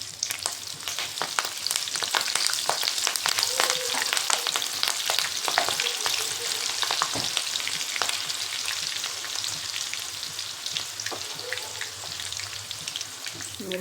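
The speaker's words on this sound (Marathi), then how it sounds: "तर आता आपल्याला मिरची तळून घ्यायची" Slit green chillies fry in hot oil for vada pav, a dense, continuous sizzle with rapid spitting crackles and pops throughout, close and steady, with no talk.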